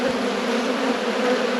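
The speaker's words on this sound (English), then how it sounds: "European wasp, I hate European wasps" A European wasp buzzes near a beehive during an autumn inspection in Australia, a close, steady insect drone holding constant for a brief moment.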